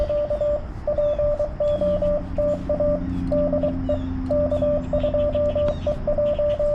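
Morse code CQ call keyed on a Yaesu FT-891 radio in CW mode, a steady single-tone string of short and long beeps in a quick rhythm over a hiss of band noise, with faint tones drifting underneath.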